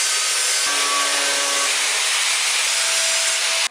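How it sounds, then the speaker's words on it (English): A grinder wheel grinding a small metal piece flat, a loud continuous harsh rasping grind that holds steady and then cuts off abruptly at the end. "So we're going to grind it all flat, so it's just one small flat piece of metal."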